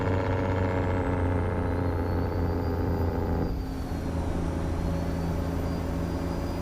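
A heavy truck in American Truck Simulator rumbles steadily and close with a deep engine drone and a high whine, then a short air-brake hiss cuts in halfway through.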